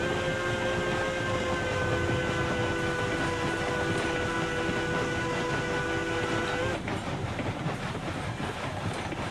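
A heavy K27 steam train rolls along in the Railroads Online video game, a continuous dense rumble and clatter with steady tonal whines that cut off abruptly near the end, with no talking.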